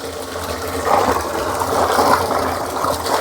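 Clear water flows in a steady, close rushing stream with a faint mechanical rattle underneath, holding an even level throughout with no voices.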